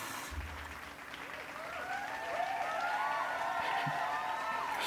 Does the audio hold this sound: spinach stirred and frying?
no